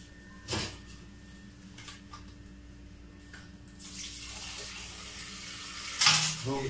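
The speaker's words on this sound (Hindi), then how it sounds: "अब इसमें डालेंगे हम 2 गिलास गर्म पानी।" Two glasses of hot water poured into a pot of rice for mutton biryani, a splashing pour rising in the second half with a louder gush near the end, plus a few clinks before it.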